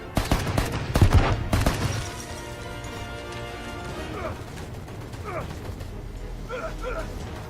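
Gunfire from a newly picked-up gun in the video game Left Alive, a cluster of loud sharp shots in the first two seconds followed by quieter mechanical game noises and faint clatter.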